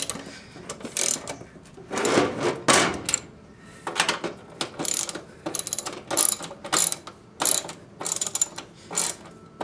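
Wrench tightening bolts in a diagonal pattern on a double barrel stove firebox for a greenhouse heater: repeated close ratcheting bursts in an uneven rhythm, loud and alone.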